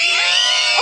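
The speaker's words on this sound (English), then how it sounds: "Scream more, scream more!" Dense, loud screaming from a crowd of fans at a concert in a Kaohsiung arena, a continuous high-pitched roar filling the whole moment with no break.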